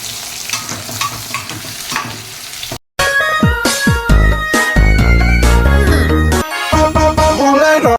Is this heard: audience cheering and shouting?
no